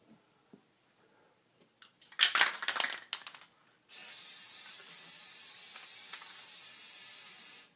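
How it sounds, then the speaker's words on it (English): Finish is sprayed from an aerosol can onto a wooden three-spoke, six-ball fidget spinner. A few clicks and a short burst of rattling come first, then a steady, close hiss runs on for several seconds. "if you just spray it until there's a white glaze on the surface, then it works best"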